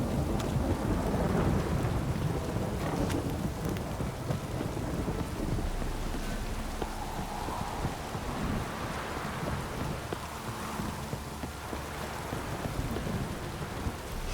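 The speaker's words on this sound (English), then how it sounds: "This downpour's a bastard" Heavy rain in the video game The Witcher 3: Wild Hunt pours steadily with a dense hiss, while low thunder rumbles beneath it throughout.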